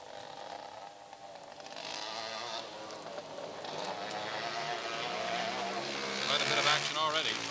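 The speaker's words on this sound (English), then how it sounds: "This vehicle, as you see coming over, is produced by Ontario Drive and Gear, and it's termed the Argo" An Argo all-terrain vehicle built by Ontario Drive and Gear runs through snow at a 1970 ATV rally, its engine whining and rising in pitch as it approaches, heard beneath a broadcaster's steady commentary.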